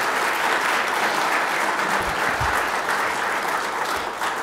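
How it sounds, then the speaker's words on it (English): Applause for cake makers from a crowd at a city's 150th birthday celebration in Auburn, Maine, a steady wash of many hands clapping throughout, moderately distant and sustained with no break. "So big round of applause for them."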